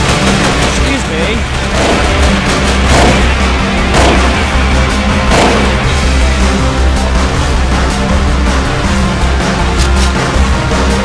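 Dense, continuous gunfire in the Half-Life 2 mod 1187 during a battle at a church, with rapid shots and booms, layered under a voice talking throughout.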